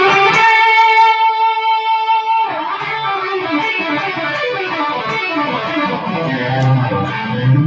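Electric guitar played through the Eclipse pedal on its high-gain side, giving a thick distorted tone: a sustained chord at first, then a dense run of overdriven notes that continues steadily to the end.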